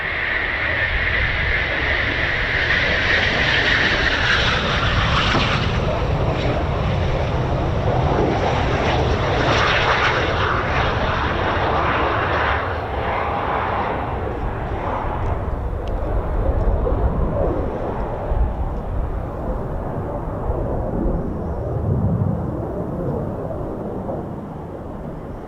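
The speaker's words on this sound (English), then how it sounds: "Final gear down, Typhoon 325, low approach." A Eurofighter Typhoon jet flies a low approach at RAF Coningsby with a loud, sustained roar that sweeps and gradually shifts as it passes, then slowly fades toward the end.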